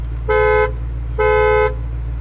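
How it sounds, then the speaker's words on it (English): Two short, firm horn honks from a 2020 BMW X5 M Competition, evenly spaced, loud and close over a low steady engine idle. "let's hear the horn on the 2020 BMW X5M competition"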